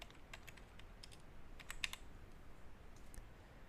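Password keys tapped on a computer keyboard, a quick burst of light clicks with short gaps, soft and close over a low background hiss.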